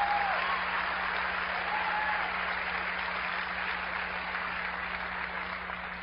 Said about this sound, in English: I don't know why you're clapping.